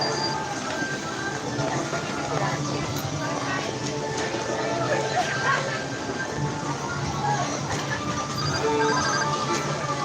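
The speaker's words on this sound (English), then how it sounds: "This freaking regular phone rang." A regular phone ringtone rings at the Norway Pavilion at EPCOT, a repeating electronic tone heard amid busy crowd noise and nearby talk.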